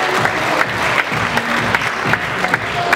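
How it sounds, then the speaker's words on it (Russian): Audience applause at the opening of a KVN comedy game, a steady wash of many hands clapping close and loud for the full stretch, with scattered sharper claps standing out. "Ваши аплодисменты."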